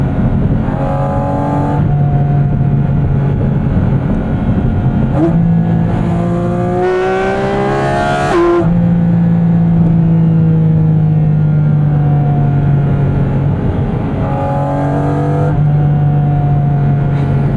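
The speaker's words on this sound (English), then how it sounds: "The shriek of this 4-liter is just" Porsche 718 Cayman GT4 RS with its 4-liter engine heard from the cabin, loud and close, rising in pitch through repeated hard revs with brief drops at each shift, a shrieking induction howl throughout.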